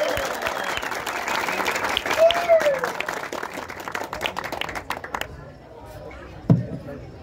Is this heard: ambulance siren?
no